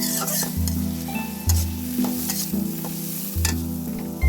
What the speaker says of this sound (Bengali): মধ্যে ভেজে নিচ্ছি আমরা আপনারাও করে খেতে পারেন